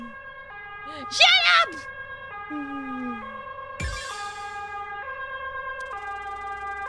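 A wailing ambulance siren in the video game vivid/stasis, steady layered tones shifting pitch in steps, looping behind a brief shouted voice and a sharp burst of noise.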